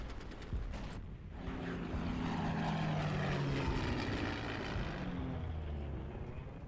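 Propeller aircraft engines drone steadily and loudly throughout in the WWII strategy game Panzer Corps, a continuous broad hum with no voices over it.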